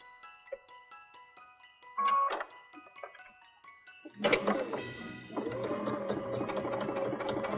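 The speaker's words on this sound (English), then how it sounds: "let's sew this up" A sewing machine stitches a patchwork stocking, starting with a few brief bursts and small clicks, then settling into a steady, fairly close mechanical whir for the last couple of seconds.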